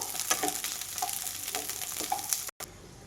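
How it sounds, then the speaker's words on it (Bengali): Eggplant pieces fry in hot oil in a karahi, giving a steady close sizzle with occasional stirring scrapes, ending in a brief cut to a quieter hiss. "বেগুনগুলো আমি একদম লাল লাল করে ভেজে নেব।"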